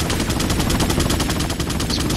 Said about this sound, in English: Someone's freaking shooting at me.